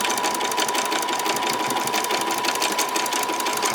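A sewing machine runs steadily while stitching swimsuit fabric, a close, even, rapid whirring chatter with a constant hum and no pauses or voices.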